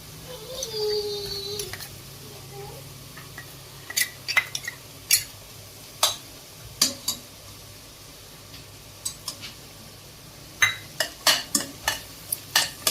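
Spiced masala for a black country-chicken curry is stirred in an oiled pan, with a dozen or so sharp spoon-on-metal scrapes and clinks coming in quick bursts over a faint low sizzle.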